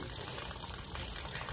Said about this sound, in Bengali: দেখো জল পড়তেই শুরু করেছে, কত জল নষ্ট।